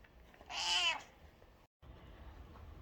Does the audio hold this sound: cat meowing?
yes